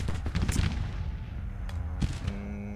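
Artillery fire in the Civil War strategy game Grand Tactician, a close cluster of gunfire bursts and booms at the start, then scattered later shots fading into a quieter battlefield.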